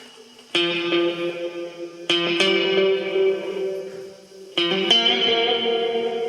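A Roland RE-201 Space Echo tape echo set to mode position 8 repeats three struck chords, each attack trailing off in a dense, sustained echo wash, played alone.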